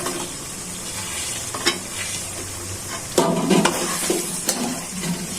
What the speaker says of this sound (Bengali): এখন দিয়ে দিচ্ছি ফালি করা কাঁচামরিচ গুলো।